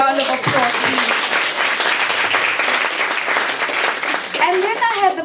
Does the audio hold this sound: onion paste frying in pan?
no